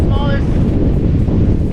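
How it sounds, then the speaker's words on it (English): A strong gust of around 35 knots while windfoiling with a 6.0 sail hits the microphone as loud, continuous roaring wind buffeting. A brief voice is heard at the start. "Here comes a strong gust."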